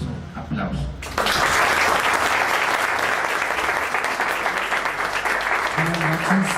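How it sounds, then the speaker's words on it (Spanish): Warm applause breaks out in a hall at a geography and statistics society ceremony, starting abruptly after a brief murmur and continuing as a loud, full, sustained wash of clapping, with a voice faintly audible near the end. "para quien pido un caluroso aplauso"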